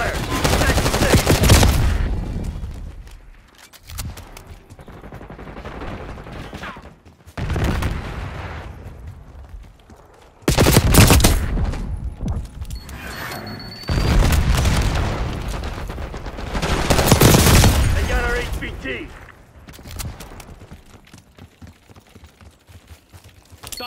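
Rapid gunfire crackles through Call of Duty Black Ops 6 multiplayer, with loud bursts and sustained volleys around 0-2, 7-8, 10-12 and 14-19 seconds, separated by quieter stretches of distant shots and game noise.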